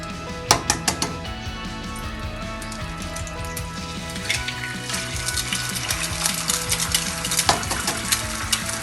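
Eggs frying in olive oil in a pan, a steady close sizzle with scattered sharp crackles and pops and some clinks of a pan or utensil, no talking.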